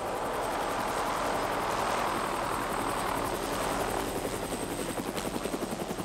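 A police helicopter hovers during a rescue operation, with a loud, steady rotor thrum and engine whine throughout and the blade chop becoming more pronounced near the end. No voices are heard.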